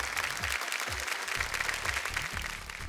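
Studio audience clapping for a finalist on a Hindi TV competition show, a steady dense patter with low music running beneath it throughout.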